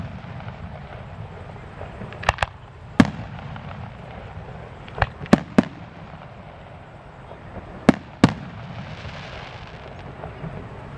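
Fireworks burst at the Lancaster Hot Air Balloon Fest, with several sharp, distant bangs spaced irregularly over a steady crowd murmur, some coming as quick pairs.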